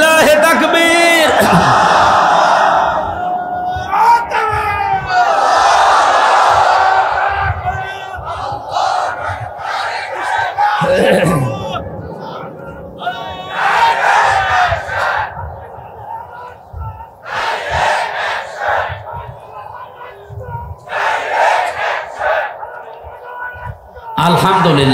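A large crowd roars a loud unison shout in repeated bursts at an outdoor Bangla Islamic waz gathering, answering the preacher's takbir call, with amplified voices echoing between the swells.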